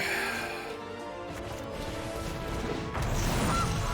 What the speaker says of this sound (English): do I play out the goose?